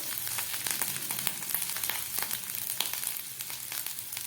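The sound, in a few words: garlic and ginger frying in oil with nigella seeds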